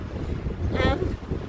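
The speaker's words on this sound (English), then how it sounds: "So sorry about the wind." Wind buffets the microphone in a continuous low rumble, with a brief faint whistle rising partway through.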